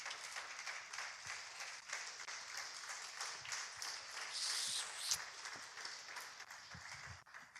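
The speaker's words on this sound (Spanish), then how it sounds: "Un aplauso al Señor, por favor." A church congregation applauds during a Spanish-language sermon, a steady wash of many hands clapping that holds for several seconds at moderate loudness.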